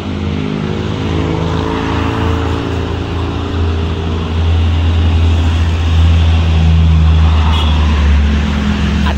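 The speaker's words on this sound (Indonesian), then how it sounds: "Satu trailer muatan semen ya kawan Dewa" A loaded Hino 500 trailer truck carrying cement drives past on a road, its heavy engine a steady, loud low drone that swells slightly toward the end, with no talking.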